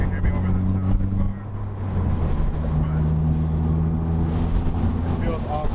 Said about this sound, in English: I don't know if you guys can hear me over the sound of the car